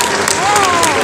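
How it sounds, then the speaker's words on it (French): Audience applauding a one-year-old female sheepdog at a herding demonstration, a steady wash of clapping with crowd noise and a voice talking over it throughout. "je crois qu'on peut applaudir cette petite chienne"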